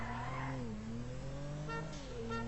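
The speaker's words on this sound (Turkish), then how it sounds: "araba cidden müthiş bir şekilde drift atıyor" Tofaş Şahin car drifting in the GTA 5 video game, its engine droning and shifting pitch as the tires squeal in short bursts, faint and without speech.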